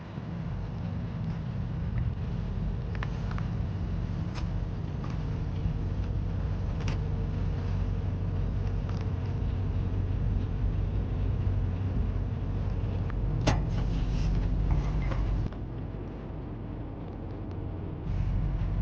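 A Toyota 100 series Land Cruiser fitted with a GGM tire carrier rolling along an off-road trail, a continuous low engine and road rumble with occasional knocks and rattles, steady and unbroken for nearly twenty seconds.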